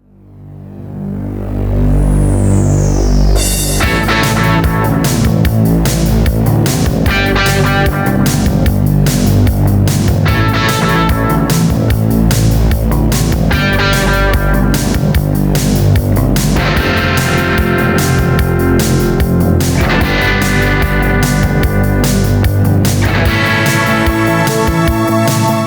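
Electric guitar plays a riff through a delay pedal with its preamp engaged, a loud steady stream of chiming repeated notes with audible echoes running continuously.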